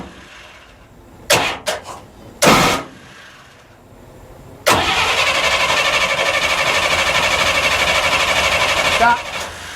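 Starter cranking the engine of a 1939 Burro Crane: a few short bursts, then sustained loud, steady churning for about five seconds before it stops.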